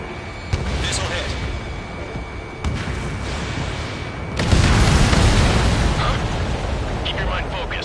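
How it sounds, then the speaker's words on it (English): A missile striking its target in the Ace Combat 7 flight game, heavy rumbling explosion layered over steady jet roar, with a louder burst midway and game voices talking in the mix. "Missile hit."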